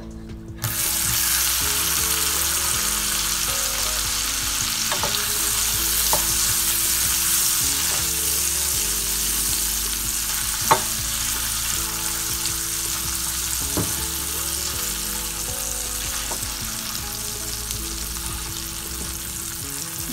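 Kebabs fry in a mix of butter and desi ghee over a low flame, giving a steady, close sizzle for the whole stretch with a few sharp clicks and light utensil touches along the way. No one speaks.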